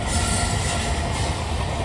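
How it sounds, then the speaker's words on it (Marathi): A train rolls past close by, a loud steady rumble of wheels on rails with a faint metallic squeal, no voices. "ट्रेन आलेलीच आहे"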